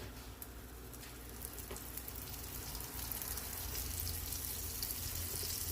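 Flour-coated meatballs sizzle steadily in a hot pan, a dense continuous frying hiss that swells slightly louder after the first few seconds, with no talking.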